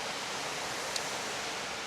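Steady, even rushing water from one of the UK's biggest waterfalls, a constant broadband roar at low volume with no talk over it.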